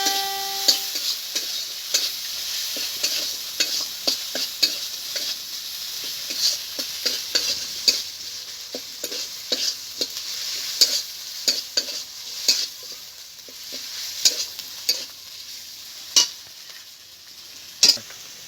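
Chopped tomato and spices stir-fry in a pan for a vegetarian eggplant and potato dish, with a soft sizzle under frequent sharp scrapes and clinks of a spatula against the metal.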